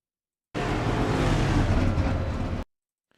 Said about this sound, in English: God, imagine if your street car sounded like that